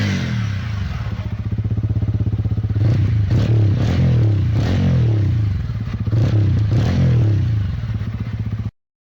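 A 2025 TVS Ronin motorcycle engine running close by, its exhaust note throbbing at idle with several quick revs rising and falling midway, then cutting off abruptly near the end.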